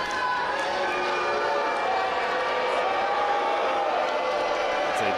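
A live wrestling crowd at an indoor show cheering and roaring in a sustained wash of noise, loud and continuous, with a few shouted voices standing out.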